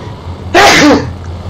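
A single sharp, loud sneeze bursts out close up against a low steady background hum, lasting about half a second and then fading.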